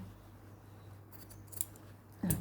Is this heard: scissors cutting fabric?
yes